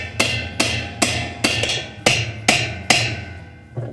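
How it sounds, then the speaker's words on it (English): Eight sharp metallic hammer taps tightening the tub nut on a Whirlpool washing machine, at a steady, unhurried rhythm, close and fairly loud, each ringing briefly before the next strike. "And then tap it tight with the hammer."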